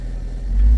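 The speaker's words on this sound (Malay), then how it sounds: "Sebab tu engine ni misfire." A Honda R18A car engine idles with a misfire, a low steady rumble that grows a little louder toward the end of the brief stretch, heard close with no voices.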